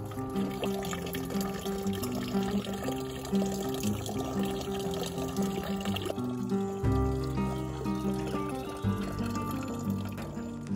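An 8-litre water bottle is refilled from a tap at a lakeside wild campsite in Germany, a steady pouring, gurgling stream of water that runs continuously and deepens in tone partway through as the bottle fills.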